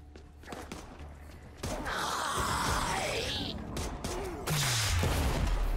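Explosions in the video game Dead Island 2, several loud bursts and rumbling blasts mixed with game effects and a falling whine, dense and close throughout.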